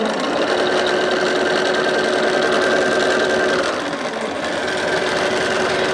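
A sewing machine runs steadily, stitching heart-shaped fabric down onto a lumbar pillow, a loud, close, continuous mechanical whir with no pauses and no talking.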